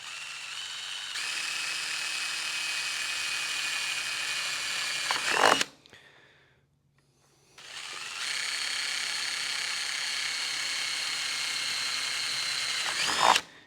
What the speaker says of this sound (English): let's drill these holes out here in the wide open spaces.